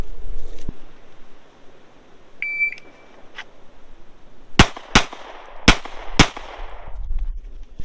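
Four sharp, loud gunshots crack in quick succession near the end of a shot-timer drill at an outdoor range, preceded by the timer's brief electronic beep.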